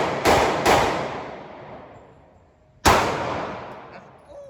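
Gunshots at a shooting range: two sharp reports in quick succession, then a third after a pause, each loud and close with a long ringing decay.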